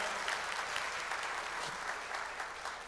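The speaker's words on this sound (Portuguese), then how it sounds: "Uma salva de palmas ao Senhor" Congregation applauding during an informal church service, a steady wash of many hands clapping at moderate distance throughout, with no talk.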